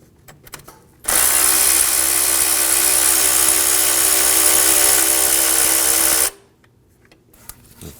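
A power tool whirs steadily for about five seconds, loud and close, as it backs out the 7mm bolt holding the crankshaft position sensor on a 2009-2014 Ford F-150 with the 3.5L V6, with quiet shop clicks before and after.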